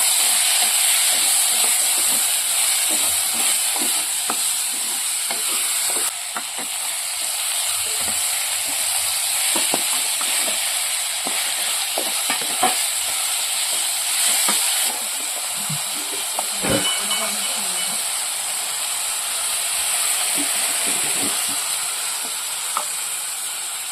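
Two chopped tomatoes fry in a pan for a sardine curry, a loud, continuous hissing sizzle broken by repeated scraping stirs, with no talking.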